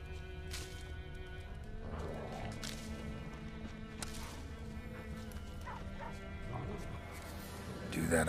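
A dog barks and whimpers in The Witcher 3 video game, a few short yips and barks under steady background music and people talking, moderately faint and mid-distance.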